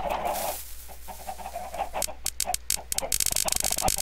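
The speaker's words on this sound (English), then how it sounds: "Chicken" Chickens clucking in a farmyard, with a run of sharp, rapid bursts building toward the end over a steady background hum.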